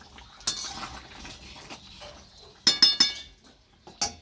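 Boiled potatoes and chicken being stirred in a pot make sharp clinks and scrapes of a utensil against metal, scattered bursts with a loud cluster of clatters toward the end.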